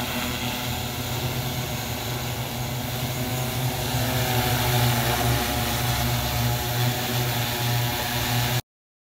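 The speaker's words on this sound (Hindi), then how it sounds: "कृषि क्षेत्र में दवाई स्प्रे के लिए भारत सरकार कृषि एवं किसान कल्याण मंत्रालय के लिए ड्रोन की एंट्री करने जा रही है" Agricultural spraying drone working over farm fields for pesticide application, its rotors giving a steady, loud droning hum with low tonal bands that holds evenly for about eight and a half seconds before cutting off abruptly.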